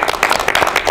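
Audience applause greets a magic act at a variety stage show, a dense wash of clapping that runs steadily through the whole brief moment.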